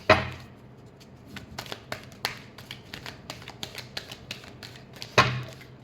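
Tarot cards are shuffled by hand in a quiet room, a string of soft, quick riffling taps and flicks with sharper clacks at the start and end, close and alone with no voices.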